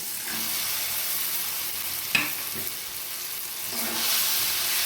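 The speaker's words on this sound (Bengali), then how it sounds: "এবার উচ্ছেটা খুব ভালো করে মশলার সাথে কষিয়ে নেব।" Bitter gourd frying in spice paste in a pan, a steady close sizzle throughout with a sharp utensil scrape near the middle and louder frying toward the end.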